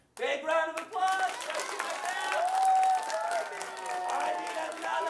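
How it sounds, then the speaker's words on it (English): Applause and scattered cheering from a live event audience, sustained at steady loudness for several seconds, with voices talking over the clapping throughout. "Big round of applause."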